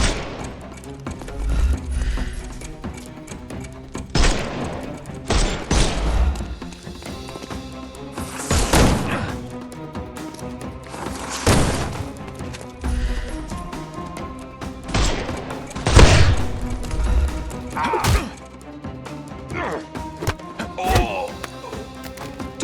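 Gunfire in the PS5 video game Sherlock Holmes Chapter One: a series of sharp, booming shots and thuds fired at irregular intervals over a dense game soundscape with background music.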